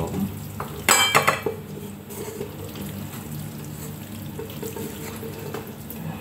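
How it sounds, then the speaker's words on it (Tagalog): Cooked Chapagetti Korean noodles being dished onto a plate, with a cluster of sharp utensil scrapes and clinks against pot and plate early on, then softer stirring and handling noises over a low kitchen background. "Ilagyan natin sa plato."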